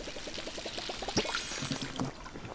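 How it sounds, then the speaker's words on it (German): Water pours steadily onto plants in the farming video game Palia, a soft continuous splashing stream with a short series of light rhythmic game tones at the start and a few more later. "Und die Tomate habe ich auf jeden Fall gerade gegossen."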